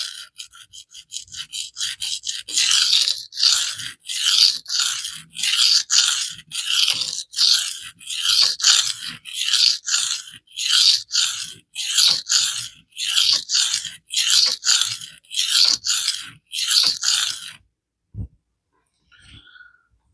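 Maxamet steel knife blade drawn across a coarse diamond plate, rhythmic loud raspy strokes repeating steadily for about seventeen seconds, then stopping with a couple of faint clicks.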